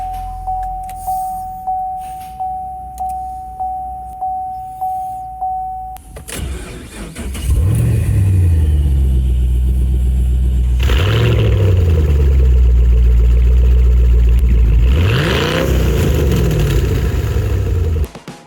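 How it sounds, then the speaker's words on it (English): A Camaro SS V8 rated at 426 horsepower starts up in a garage after rhythmic chiming, then idles loudly and revs in several long swells, close and alone with no talk. "the V8 engine with 426 horsepower is running perfectly"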